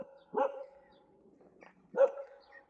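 A dog barks twice, two short sharp barks about a second and a half apart, fairly close, with quiet room tone between them.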